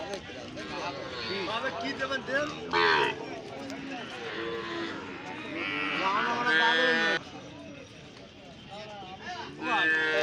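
At a cattle market, cows low repeatedly in long, wavering moos, some near and loud, others overlapping, while people talk and murmur throughout.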